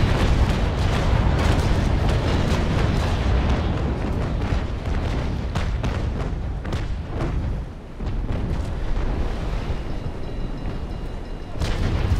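Naval cannon fire from sailing warships in a Naval Action fleet battle: continuous dense rumbling barrages of booming shots, loud and overlapping throughout with a brief lull near the end.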